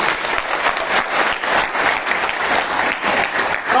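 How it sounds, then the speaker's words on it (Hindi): A seated audience at a motivational speech applauds loudly and continuously, a thick, close wall of clapping with gentle swells lasting nearly four seconds. "सब तालियां बजाएं"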